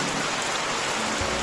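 Steady rain falls over a rural field hut, a continuous even hiss of drops with a low rumble entering near the end and no voices.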